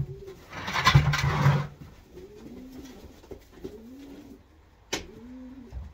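Pigeons coo repeatedly in a breeder's loft, soft rolling calls spaced a second or so apart, with a burst of louder fluttering or handling noise near the start and a sharp knock later.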